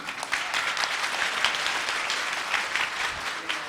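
Audience applause at a Bhagavat Katha gathering at Janaki Ghat, Ayodhya, a dense, steady roar of many hands clapping throughout, loud and continuous with no talk.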